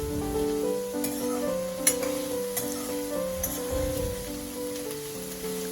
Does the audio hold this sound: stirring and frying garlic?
yes